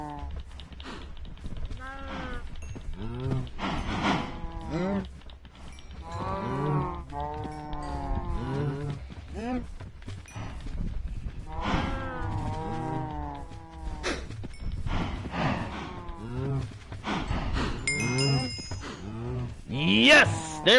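Cows mooing repeatedly in Minecraft, several low drawn-out calls overlapping one another. They are being bred on a farm and are loud and close throughout, with no talking.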